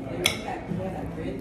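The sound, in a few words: cutlery on a plate while cutting up crab cakes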